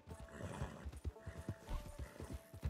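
A horse in Red Dead Redemption 2 whinnies while hooves clop in a steady trotting rhythm, close and fairly quiet, with no talking.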